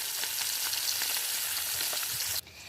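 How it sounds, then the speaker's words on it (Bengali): Puti fish frying in a wok, a loud, steady, bright sizzle of hot oil with small crackles throughout, cutting off abruptly near the end to a quieter hiss. "আর মাছটা আমি ভেজে নিই।"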